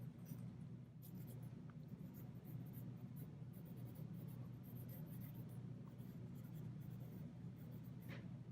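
Pencil on paper draws small details of a Lamborghini sports car, a continuous soft scratching with quick strokes, close and quiet over a low steady hum.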